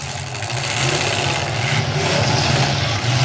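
Several pickup truck engines rumble and rev in a demolition derby arena, a loud, continuous low drone with rising throttle surges and rough idling close by.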